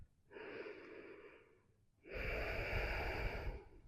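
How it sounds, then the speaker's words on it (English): Deep, slow breaths during a power yoga flow, one long airy inhale or exhale followed after a short pause by a second, louder and longer breath, close and soft with no talk. "Keep breathing longer and deeper."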